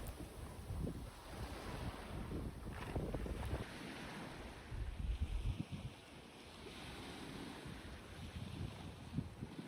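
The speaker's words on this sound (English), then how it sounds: "We spent the entire evening listening to the waves" Ocean waves washing on the Johnston Strait shore off Vancouver Island, a soft, irregular surge of surf mixed with gusting wind noise, rising and falling across the stretch with no voices.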